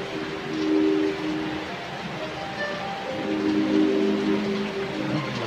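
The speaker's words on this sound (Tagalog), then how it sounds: "Nabutan mi ng ulan." Rain falls steadily as a soft broadband hiss during a ride, with a low engine-like hum underneath and no clear talking.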